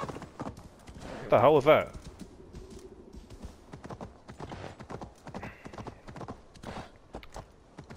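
In the Viking-era game Assassin's Creed Valhalla, a horse whinnies loudly with a wavering cry, then its hooves clop softly. Someone talks and quiet keyboard taps sit underneath.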